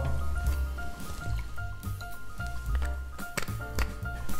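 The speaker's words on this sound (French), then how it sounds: "Tu verses 2 onces de vodka, 3/4 d'once de jus de citron, 2 traits d'angostura." Vodka, lime juice and dashes of Angostura bitters are poured into a glass for a Moscow mule, with soft liquid splashes and drips over steady background music.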